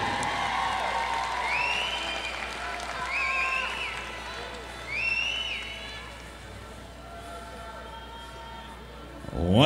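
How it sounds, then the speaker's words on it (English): Crowd applause and cheering in a gym at a girls basketball championship, a steady wash of clapping with shouts rising and falling, while an announcer's voice carries over it. "let's give a big round of applause to our first team selections"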